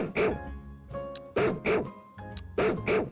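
A Pokémon barks in the video game Pokémon Legends: Z-A, four or five short, tonal yapping barks in quick succession, loud and close, with brief gaps between them.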